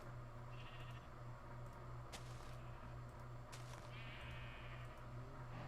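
Sheep bleat in the video game Minecraft, two short, quiet bleats over a steady background hum and ambient game sound.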